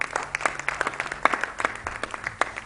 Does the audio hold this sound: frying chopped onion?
no